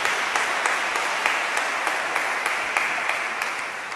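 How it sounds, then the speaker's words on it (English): Audience applause at an anniversary banquet, a steady wash of many hands clapping with faint louder claps poking through, sustained for several seconds and tapering slightly toward the end. "let's give that a round of applause."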